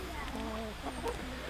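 Free-range chickens cluck softly outdoors, faint and somewhat distant under a steady background hiss, with a few short clucks scattered through.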